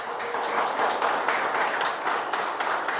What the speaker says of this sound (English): Little round of applause for those guys